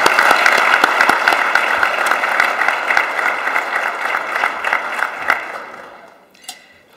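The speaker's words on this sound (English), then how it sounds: "So if you'll join me in expressing appreciation to them through a round of applause" A large audience at a corporate counsel awards event applauds its honorees with dense, sustained clapping that holds steady for about five seconds, then thins out and fades, with a few last scattered claps at the end.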